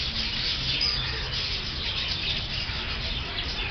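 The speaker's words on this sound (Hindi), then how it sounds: "तोते का ही एक टाइप लग रहा है मुझे" A parrot-type bird calls in an enclosure at a zoo, its steady chirping and chattering continuous and moderately loud against a constant background hiss.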